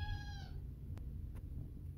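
A brief, high cat meow at the start, thin and frightened-sounding, then quiet room noise with a few faint clicks.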